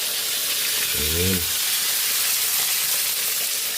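Pork steak frying in a pan, a steady close broadband sizzle running throughout, with a brief spoken word partway through.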